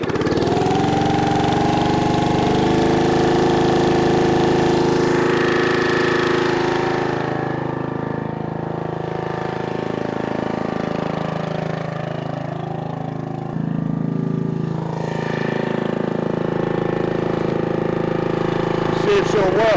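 Small engine on a log splitter runs steadily outdoors in wind and cold, a close, continuous mid-pitched drone that dips slightly in the middle and then picks back up.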